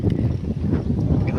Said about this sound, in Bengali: বাতাস আছে আবার প্রচন্ড